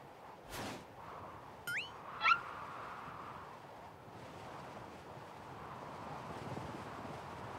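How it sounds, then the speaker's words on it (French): Low, steady rushing of wind blowing across a microphone in a cartoon, with a few brief squeaky chirps early on and a faint thump. "Le vent souffle de plus en plus."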